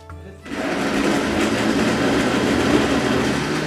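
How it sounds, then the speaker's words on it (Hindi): A grinder whirs loud and steady after a brief quieter start, blending onion, chili, tomato, garlic and ginger into a paste, with the motor drone continuous to the end. "सब कुछ जो है ना वो डालकर तो इसको ये ग्राइंड कर लेंगे और इसका पेस्ट बना लेंगे।"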